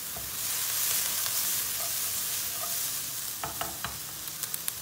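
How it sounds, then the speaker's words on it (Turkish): Peppers and onions frying in a pan for a meatball dish, a steady close sizzle with occasional light scrapes and taps of a spoon stirring, no voices. "Az bir de biberlerini kızartacağız."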